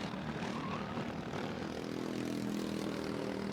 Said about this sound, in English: Coming onto the back straight. 4 karts right by each other.